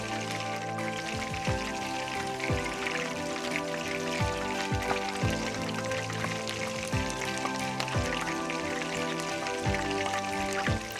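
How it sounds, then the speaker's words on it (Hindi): Shredded potato lachha pakoras fry in hot oil, a dense continuous crackling sizzle that sounds close and steady, layered under soft background music. "तो इसी तरह से बाकी के पकोड़े भी मैं फ्राई कर लूँगी।"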